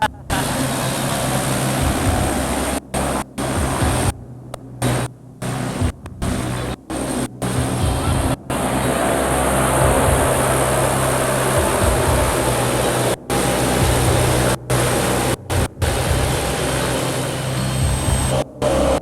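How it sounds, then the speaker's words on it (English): Britten-Norman Islander plane taking off for a skydive, its engine drone steady and loud throughout, with brief dropouts and a voice talking over the noise. "The conditions for skydiving are perfect, and the Islander plane takes off for Mel's jump."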